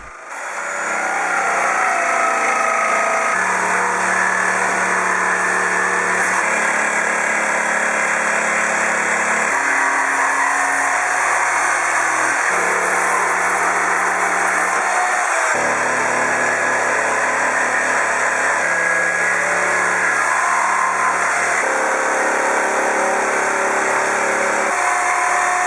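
A jigsaw cuts along a marked line in wood to free the shape of a table saw push stick, working in short sections. It drones loud and steady for the whole stretch, with the pitch shifting every few seconds.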